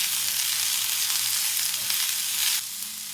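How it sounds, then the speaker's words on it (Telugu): Chopped ridge gourd peels fry in hot oil with garlic in a pan, a dense, steady sizzle heard up close that drops slightly in loudness near the end. "ఇప్పుడు ఇందాక తరుక్కున్న బీరకాయ తొక్కలు ముక్కలు వేసేస్తున్నాను."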